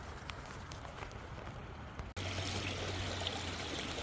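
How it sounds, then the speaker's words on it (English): A small creek near a sandy swimming hole in Washougal, Washington babbles steadily, a soft continuous wash of trickling water close by that grows fuller and louder partway through. "you can hear this little babbling area of the creek here"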